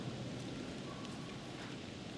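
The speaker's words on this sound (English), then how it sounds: "It's raining and shit." Steady rain falling outdoors at night in the horror video game The Devil in Me, a constant broadband hiss with faint rustling, soft and even throughout with no voices.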